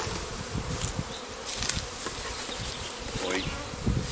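Honey bees buzz around an open hive, a dense close swarm drone with individual bees rising and fading as they pass near, no talk.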